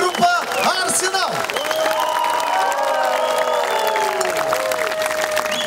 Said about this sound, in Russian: Давайте встретим вашими бурными аплодисментами